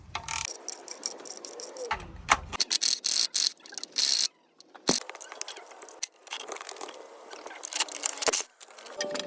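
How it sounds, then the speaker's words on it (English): Clicking ratchet loosens the 10mm transmission oil pan bolts on a Toyota RAV4 in irregular close bursts, separated by short pauses and handling noises. "Now I'm going to remove the rest of the 10mm bolts around the transmission oil pan"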